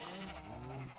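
A single drawn-out sheep bleat on a Minecraft sheep farm, wavering and nasal, moderately close with no talk over it.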